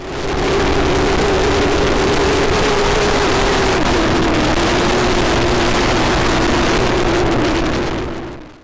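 Wind roars over a Thinkware M1 motorcycle dashcam while riding, a loud, constant buffeting rush with a low engine drone underneath, steady throughout before cutting off.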